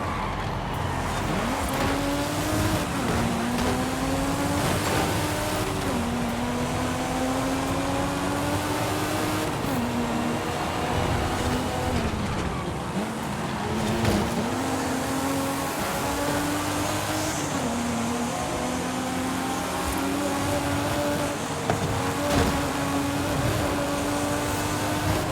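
Race car engines roar in Forza Horizon 5, one engine revving up and down in repeated climbing gear pulls with steady road and tire noise underneath, close and continuous.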